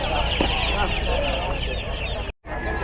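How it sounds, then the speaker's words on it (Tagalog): Broiler chicks cheeping as a dense, continuous chorus at a busy pet and livestock market in Bocaue, with crowd noise and voices mixed in and a brief dropout near the end. "Meron din ditong mga sisiw, no? Kuya, anong lahi nito? Broiler po yun eh."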